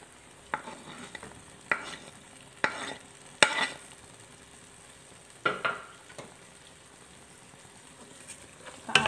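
Paprika and onion fry in a pan for beef teriyaki, a low steady sizzle broken by a handful of sharp spatula scrapes spaced a second or two apart, close and clear with no talking.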